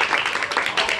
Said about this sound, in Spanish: Bueno, aplauso, aplauso.